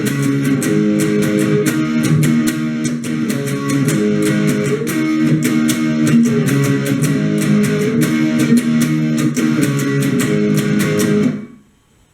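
Distorted electric guitar runs through the intro riff, with steady driving strummed chords and rhythmic palm-muted chugs that stay loud throughout, then stop abruptly at the end.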